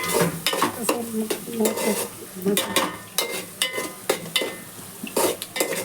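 Onions and turmeric frying for a crab curry are stirred in a pan, with repeated scraping strokes and light metal clinks over a soft sizzle, close and moderately loud.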